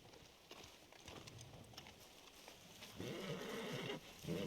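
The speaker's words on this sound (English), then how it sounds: "I can't revive his horse." Horse hooves clip-clopping and a whinnying neigh from a video game with paintball play, the hoofbeats scattered through the clip and growing louder and denser toward the end.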